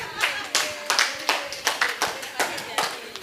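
An audience at a Uganda summit gathering claps for the members in a quick, rhythmic run of sharp claps, fairly close and steady over a few seconds.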